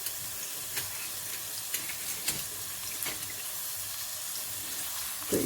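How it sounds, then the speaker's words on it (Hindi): Sliced onions browning in hot oil in a pan, a steady close hiss of frying with occasional sharper crackles and spatters, continuous throughout without speech. "तो ये इसमें मैं प्याज़ों को ब्राउन कर लूँगी।"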